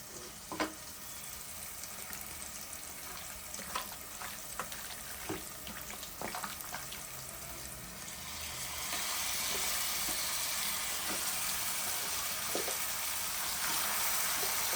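Marinated mutton goes into a pan of curry base and sizzles, a soft hiss with scattered light crackles that grows noticeably louder and denser partway through, with no talk over it.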